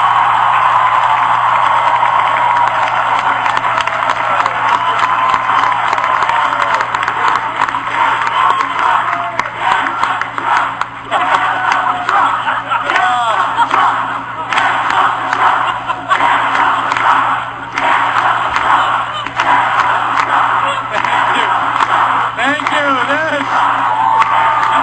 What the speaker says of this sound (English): And I bet they can hear this cheering all the way in Washington